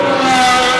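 A loud, close Formula 1 car howls by during the 2023 Monaco Grand Prix, its sustained high-revving engine note filling a brief moment with no talking.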